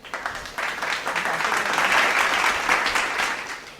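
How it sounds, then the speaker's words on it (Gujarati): Audience at a higher-studies scholarship programme breaks into applause for a student, a dense, steady clapping that rises quickly and holds loud and even for several seconds, with no voices over it. "જોરદાર તાળીઓ થઈ જાય અમૃતા માટે"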